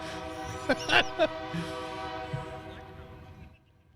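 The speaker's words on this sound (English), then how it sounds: "don't you hate it when a train comes through and interrupts a baseball game?" A train rumbles past a baseball game with a steady, droning horn blast and rolling noise, while people talk nearby; the sound fades out at the end.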